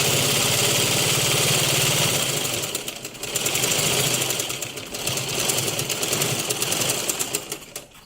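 A sewing machine stitches the side seam of a blouse, running loudly and close in a rapid mechanical chatter that surges and eases in several long runs with short slowdowns between them.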